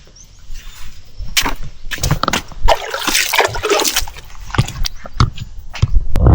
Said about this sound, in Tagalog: Ito na, nilagyan na ng buhos.